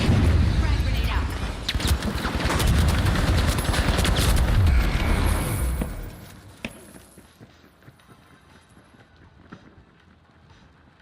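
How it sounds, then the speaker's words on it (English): A frag grenade and gunfire in the video game The Finals: a loud, dense burst of rapid shots and blasts dominates the first six seconds, then drops to scattered faint pops and quiet ambience. "Frag grenade out."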